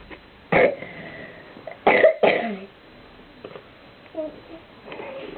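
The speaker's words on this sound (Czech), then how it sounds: "To jen si odkašlal." A few harsh, abrupt coughs and throat-clearing bursts nearby, followed by soft sounds and faint murmuring.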